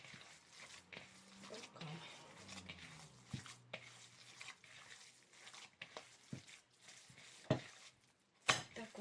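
Salted minced meat filling for dumplings being mixed in a bowl, soft squelching and occasional clinks of utensil against the dish, close and quiet with intermittent sharper knocks.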